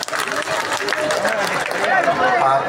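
A school reunion audience for the batch of 1995 at Parpugi High School applauds in a dense, steady wash of clapping mixed with crowd chatter and voices, growing slightly louder toward the end.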